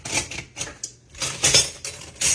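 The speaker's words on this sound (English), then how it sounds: "Let me get me a little spoon over here" A spoon is handled among dishes, giving a few short metallic clinks and scrapes in quick uneven bursts, close and fairly soft, with no talk.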